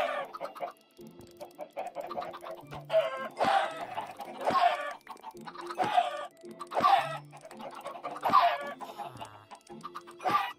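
Chickens in the Minecraft video game cluck in repeated bursts, a steady series of choppy game-sound clucks at close range with no talking over them.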